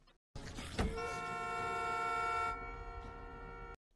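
A car horn blares in one long sustained honk, loud and close, starting just after a sharp knock and cutting off abruptly, in a zombie scene.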